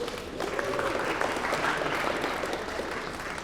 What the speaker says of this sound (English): Those of you who are visiting on the worst day in the winter, can give yourselves a big round of applause.